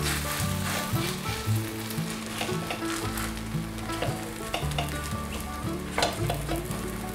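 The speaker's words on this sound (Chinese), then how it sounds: "再让它煎吧。" Food pan-frying in a pan, turned over and left to cook to golden brown, gives a steady broadband sizzle with occasional spatula scrapes and stirring clatter, close and continuous with no voices.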